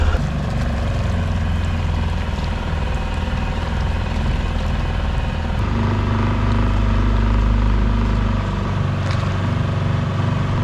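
A motorboat engine rumbles loud and steady on open water, a dense low drone that shifts slightly in pitch partway through, with no talk over it.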